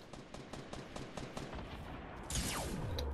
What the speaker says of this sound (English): Are you shooting me, dude?